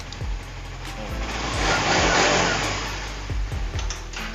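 A used scooter-style motorcycle engine runs during an inspection, idling with a steady low putter that rises into a revving swell mid-way and then settles back, close and clear with no talk.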